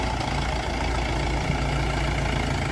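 A Mahindra Yuvo Tech+ 575 tractor engine idles steadily, a low, even diesel drone with a constant hum and no revving, heard close and alone for a few seconds.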